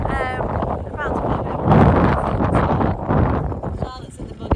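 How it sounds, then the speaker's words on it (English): Strong wind buffets the microphone outdoors near sheep and lambs, a loud rushing roar under a person talking throughout. "it's too windy out here"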